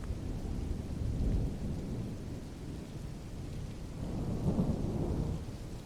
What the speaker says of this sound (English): The rhythmic tapping of rain on the windows, the distant rumble of thunder